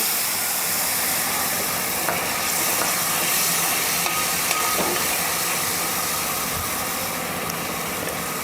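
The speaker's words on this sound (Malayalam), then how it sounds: "അപ്പം ഒരു രണ്ട് ടേബിൾ സ്പൂൺ കോൺഫ്ലവർ കലക്കിയതാണ് അതിലേക്ക് ഒഴിച്ചു കൊടുക്കാം" Chili chicken fries loudly in a pan as a cornflour slurry is poured in. A dense, steady, close sizzle with faint stirring scrapes fills the whole stretch, and no one speaks.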